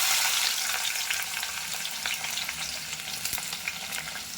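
Onions frying in hot oil with mustard seeds, fenugreek and garlic for a fish curry, a loud dense crackling sizzle that eases slightly, with light stirring scrapes and occasional pops.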